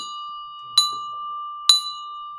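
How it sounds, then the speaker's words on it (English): A small bell struck twice in this stretch, each a bright ringing strike over a steady high electronic tone, with the strikes spaced about a second apart and no talking. "That's 3 clicks of a bell for 3 p.m. Eastern"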